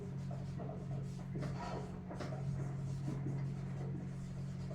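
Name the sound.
writing on a board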